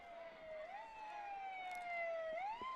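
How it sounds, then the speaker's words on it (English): An ambulance siren wails from a distance at a football game, its tone sliding up and down in long sweeping cycles, faint but steady throughout. "sure you could hear it on our microphones, but the ambulance just arriving now"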